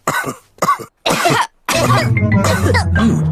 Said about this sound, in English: Oh dear, all the grown-ups have caught Pedro's cough.